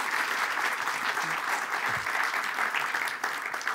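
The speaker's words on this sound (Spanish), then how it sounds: "un aplauso" A conference audience in a Spanish-language corporate talk claps in steady, dense applause that fills the whole stretch at an even loudness, with no voices standing out.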